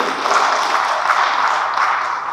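Audience applause at an academic oration given by Indonesia's Minister of Religious Affairs: a steady, dense wash of many hands clapping for the full stretch, fairly loud and even, with no one speaking over it.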